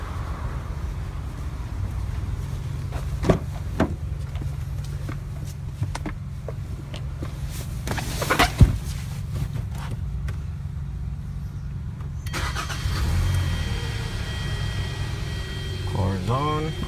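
A 2011 Hyundai Sonata with air conditioning that is not cooling runs at idle with a steady low engine rumble, and scattered clicks and thumps occur near the car.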